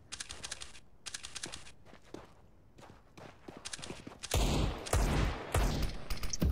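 Bursts of gunfire spraying through smoke during a CS:GO pro match between G2 and Natus Vincere on Dust 2. Short rapid volleys and footsteps come first, then a louder, denser stretch of shooting.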